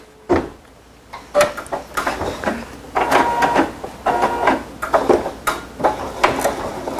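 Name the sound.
embroidery machine sewing a fast triple stitch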